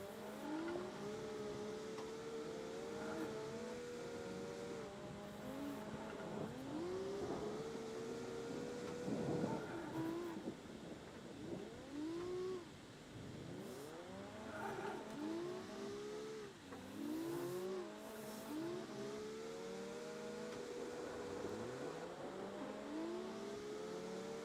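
Cars in the CarX Drift Racing video game whine and rev through long drifts, with engine pitch sweeping up and down and a steady tire-squeal wash, several cars at once, continuous and fairly quiet.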